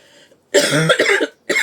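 A loud, harsh cough burst close to the listener, followed by a second short cough after a brief pause.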